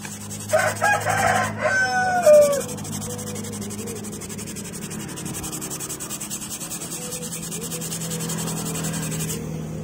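A rooster crows once near the start, a loud drawn-out call, followed by steady background hum and scraping noise.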